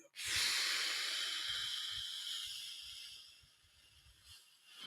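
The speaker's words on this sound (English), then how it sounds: "sinus breathing, 4 seconds in" One slow, steady breath drawn in through the nose, a close, airy hiss lasting about four seconds that swells quickly and then gradually fades.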